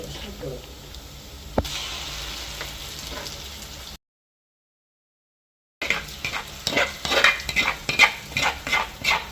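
Fish roe stirred in a pan over onions already sautéed, with steady scraping strokes and soft sizzle; a gap of silence midway, then a quicker run of rhythmic spoon scrapes close by.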